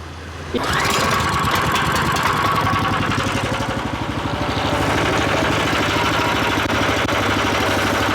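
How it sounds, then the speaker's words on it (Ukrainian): A WEIMA WM1100F-6 walk-behind tractor engine sputters to life and settles into a loud, steady, rattling idle close by as it warms up. "Двигун прогріється зараз."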